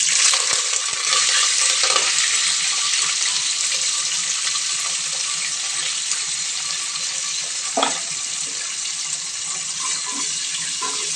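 Curry leaves frying in oil in a pan for chivda, a loud continuous hissing sizzle with a brief sharper crackle near the end, close and steady, no voices.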